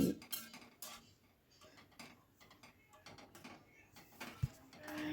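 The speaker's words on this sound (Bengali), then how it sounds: "আবারও সব কিছু খুব ভালো করে মিশিয়ে নিচ্ছি" A spoon scrapes and clinks faintly against a pot while a lentil dal with bay leaf pieces is stirred, soft irregular ticks and rattles up close.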